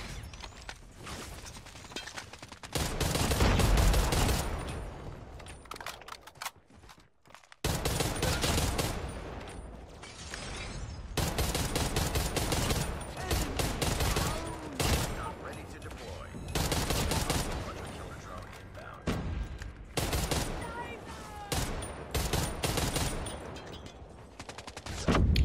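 Rapid gunfire from the Type 63 rifle in a first-person shooter video game, sharp cracking shot bursts interspersed with mechanical reload clicks and a voice talking over the action.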